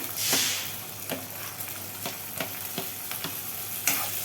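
Tomato tipped into browned onion and sizzling in hot oil for Karnataka-style susla, a steady close-up crackle broken by several sharp stirring scrapes and clicks against the pan.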